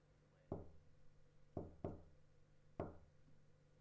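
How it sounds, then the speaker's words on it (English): Four sharp knocks on a door in the video game Chaos;Child, one single rap followed by a quick pair and then another single, crisp and close against a quiet background. "It's just a knock on the door."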